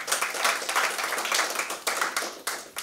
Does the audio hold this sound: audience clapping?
yes